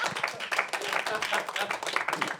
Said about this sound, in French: Ben, vous pouvez applaudir.